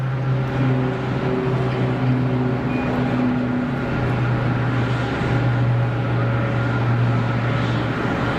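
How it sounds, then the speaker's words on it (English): A Beechcraft King Air turboprop takes off at Geneva Airport, a steady, loud broadband roar with a low droning hum holding evenly throughout, unbroken by talk. "There's a King Air blasting out, that's what the noise is."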